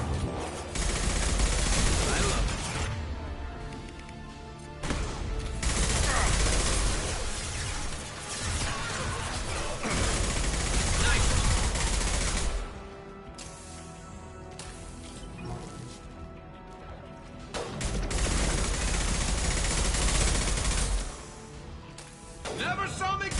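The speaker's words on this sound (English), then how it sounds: "So this is a machine pistol." A machine pistol fires in the video game Mass Effect 2, with loud rapid bursts of automatic fire in several long volleys separated by brief lulls, while a person talks over the action.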